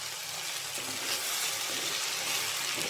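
Chopped ivy gourd and green chillies sizzle while being stir-fried in a pan for a thoran, a steady, close hiss of frying with faint stirring and no voices.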